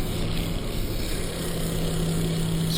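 Loud, steady mechanical whirr of a sanding machine smoothing the edges of a leather boot, grinding continuously with a constant motor drone and no pauses.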